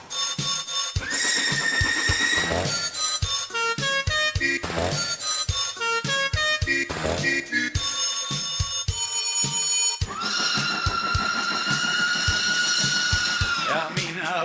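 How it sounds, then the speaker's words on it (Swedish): Shrill electronic telephone ringing pulses in harsh repeated bursts with warbling tones, loud and continuous across the whole stretch, no voices. "Och barnavårdsnämndens ilskna telefonsignaler."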